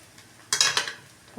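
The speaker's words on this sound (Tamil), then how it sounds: "உப்பு போட்டு நல்லா மிக்ஸ் பண்ணி விடணுங்க." Salt is stirred into vegetable fried rice in a pan. A spoon scrapes and clatters against the metal in a short burst of strokes, with soft sizzling and a final light knock.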